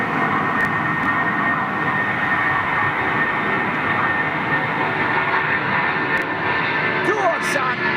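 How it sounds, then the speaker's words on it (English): A Boeing 747 departs Heathrow under a low cloud base, its jet engines roaring in a loud, steady, broad rumble that holds throughout, with voices faintly underneath. "747 on its way to you."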